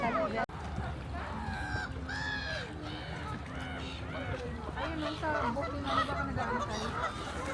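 Many large birds honk repeatedly in a noisy, overlapping chorus close by in England's Lake District, with people talking faintly underneath.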